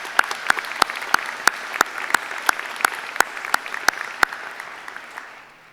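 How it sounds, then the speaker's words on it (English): A convocation audience at a university's spring ceremony claps over a steady bed of handclaps, with one loud nearby clapper standing out in a regular rhythm before the applause fades away. "if we could just thank Alan with a round of applause"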